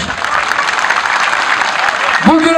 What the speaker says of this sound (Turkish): şu ana kadar yapılan güreşlerden memnunsanız bir alkış istiyorum alkış